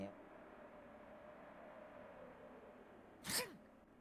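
A single sharp sneeze bursts out near the end over a quiet background hum, with no other prominent sounds.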